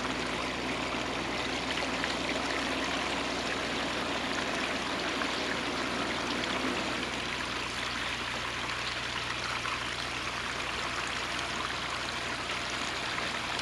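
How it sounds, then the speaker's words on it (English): Water runs steadily from an automatic sensor-controlled supply, a continuous soft rushing flow like a small stream, even and unbroken throughout, with no voices. "And the water is starting to flow."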